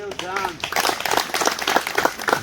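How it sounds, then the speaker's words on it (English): Participants at a PE teachers' regional workshop in Gulu clap together in a steady patter of applause, while a voice talks over them. "Clap louder for the work well done."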